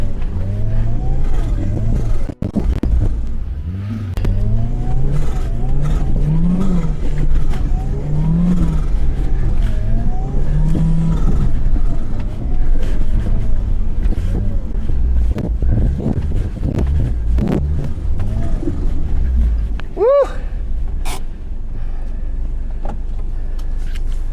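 A Toyota RAV4 swapped with a 3S-GTE engine and small CT15B turbo revs hard and repeatedly while drifting in snow, the loud engine rising and falling in waves with wind buffeting the microphone.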